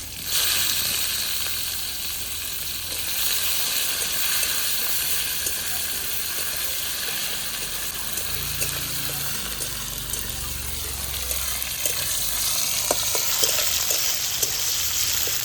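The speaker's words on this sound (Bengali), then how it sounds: "পেঁয়াজটা লাল লাল করে কিন্তু আমার ভাজা হয়ে গেছে" Chopped onion and tomato frying together in a pan with a loud, steady hiss of sizzling that runs throughout, plus occasional light stirring clicks later on.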